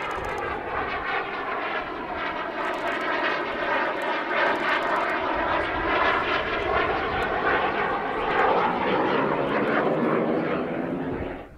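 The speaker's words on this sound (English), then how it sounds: "version of the venerable Jet Provost trainer, developed for the export market in the 1960s." A Jet Provost-derived export jet trainer in Royal Air Force of Oman colours flies a display at the Southport Airshow. A loud, continuous jet roar shifts slowly in tone as the aircraft manoeuvres overhead and holds at a fairly constant level throughout.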